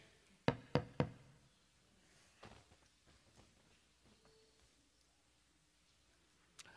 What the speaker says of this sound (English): Didn't hear you knocking.